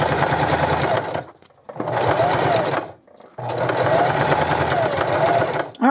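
Sewing machine stitching fabric for a crayon roll, running in three loud, steady whirring bursts with brief stops between them, close up; a faint voice is heard at the end.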